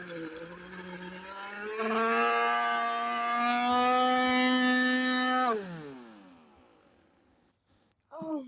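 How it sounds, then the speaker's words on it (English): A handheld vacuum cleaner motor, its body filled with water, spins up to a loud, steady siren-like whine, holds the pitch for a few seconds, then winds down in a falling wail before a brief burst of noise. "this thing legitimately sounds like an actual siren"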